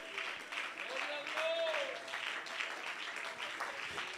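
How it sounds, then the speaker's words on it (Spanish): A church congregation applauds in steady, continuous clapping that stays moderately loud throughout, with a tonal voice or sung note rising briefly over the crowd. "Sígale aplaudiendo, hermano. Usted está aplaudiendo al Señor de su vida."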